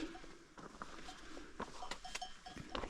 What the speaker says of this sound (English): Hear the clanging to the left of us. Behind this hedge is all the sheep. They must have cowbells on.